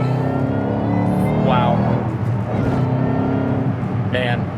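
Engine of a 2008 Shelby GT500KR 40th Anniversary Edition revving hard in third gear as the car slides sideways, a loud steady roar with a rising rev near the middle and voices talking over it.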